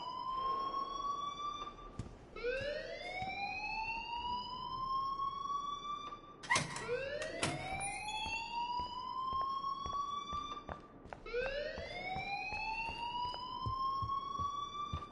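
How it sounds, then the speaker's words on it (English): A wailing siren-style alarm rings in the video game Life is Strange, sweeping upward again and again in loud, repeated cycles with no talking over it. "please turn off that alarm since that's your job"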